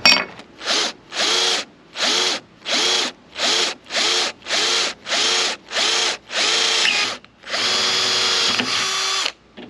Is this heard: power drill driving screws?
yes